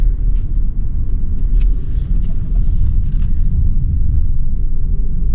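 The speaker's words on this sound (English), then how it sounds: "I'm just about to test drive a little bit this beautiful car" Interior of a 2019 Toyota C-HR with automatic transmission, about 53,000 miles, driving along with a steady low road rumble and engine hum, plus faint clicks and rattles in the cabin.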